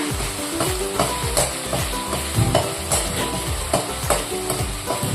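Spice masala with tomato sautéing in a pan, a loud, dense sizzle broken by repeated scraping and stirring strokes from a spoon, close up and continuous with no talking.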